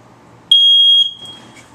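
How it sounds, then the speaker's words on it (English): A smoke alarm sounds as its test button is held, giving a single loud, piercing electronic beep lasting about half a second, close by in a quiet indoor room. "I'm going to ask them to push this smoke alarm button there"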